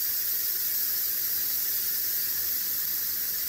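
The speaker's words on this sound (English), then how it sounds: "this is the Instapot ended. I'm letting it steam out so we can unlock it" An Instant Pot pressure cooker vents steam in a steady, loud, unbroken hiss that holds at one level throughout, with no talking over it.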